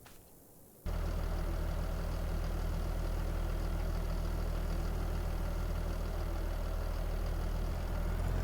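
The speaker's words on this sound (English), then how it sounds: "Let's go grab our tractor and head out to the field." Tractor engine in the Farming Simulator video game, starting abruptly after a brief quiet moment, then a steady, loud, low idling drone that runs continuously without change, with no talking.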